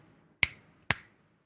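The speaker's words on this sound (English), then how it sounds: "let's give it a 5-second pause and a clap" Two sharp, close hand claps about half a second apart, crisp and loud in an otherwise quiet room, used as a sync marker during a podcast recording.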